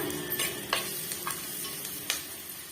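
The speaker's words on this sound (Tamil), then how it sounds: "இதையுமே வந்து வதக்கி விட்டுடலாங்க ஹை ஃப்ளேம்ல வச்சுக்குங்க" Bitter gourd and curry leaves sauté in hot oil on a high flame, a steady close sizzle broken by a few sharp scrapes and taps of the spatula.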